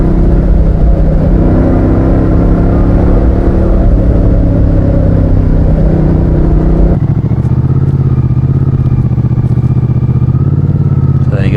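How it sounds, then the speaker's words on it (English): A 1000cc Moto Guzzi motorcycle ridden on country roads gives a loud, close, continuous engine drone with wind noise, and the pitch shifts partway through as the rider changes gear or speed. "so I'll just let you hear the Moto Guzzi"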